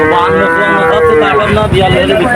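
A calf moos loudly and close by at a busy cattle market, one drawn-out bellow filling the whole moment over a steady crowd murmur.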